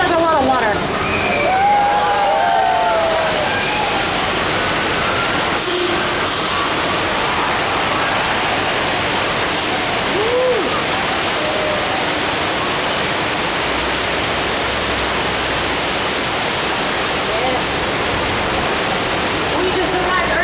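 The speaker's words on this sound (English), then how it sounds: "Wait a second, that's a lot of water." Rushing flood water effect on the Universal Studios Hollywood studio tram tour after the earthquake simulation, a loud continuous roar of pouring and sloshing water that fills the whole stretch, with brief faint voices.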